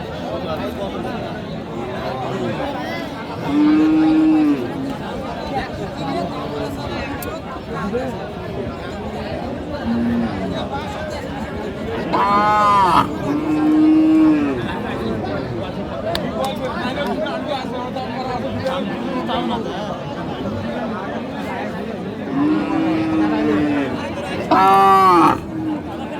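Beef cattle at the Aftabganj cattle market in Dinajpur moo several times, some moos long and low and some higher-pitched, close and fairly loud, over continuous crowd chatter and people talking nearby.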